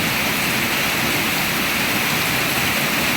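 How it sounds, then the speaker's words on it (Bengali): Heavy rain pours in Bangladesh, a dense, unbroken hiss of falling water that stays loud and steady from start to finish with no voices. "বাংলাদেশে বর্তমানে প্রচুর পরিমাণে বৃষ্টি হচ্ছে"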